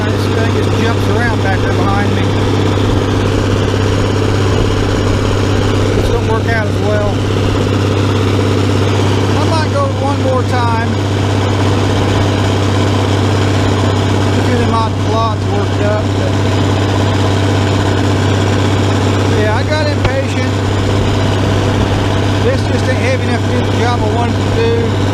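A Farmall 806 tractor engine runs steadily while pulling a disc through dirt at over three-quarters throttle, a loud, constant low drone with a strong hum and recurring rattles, heard close and continuous.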